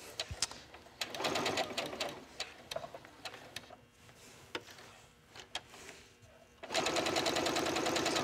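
A sewing machine back stitches a garment seam, running in bursts: a short start, a longer stretch of stitching, a pause with faint clicks, then a final sustained run.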